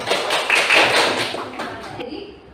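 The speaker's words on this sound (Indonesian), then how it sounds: "tepuk tangan untuk kelompok" Classroom applause for a presenting group: a short burst of many hands clapping together, loud and close, then tapering off within a couple of seconds.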